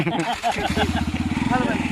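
A motorcycle engine starts up close by and settles into a rapid, even thumping idle, with people talking over it.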